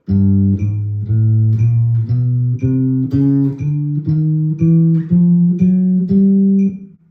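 Electric bass plays a chromatic scale, a steady run of about fourteen plucked notes rising step by step, each clear and loud with a short sustain.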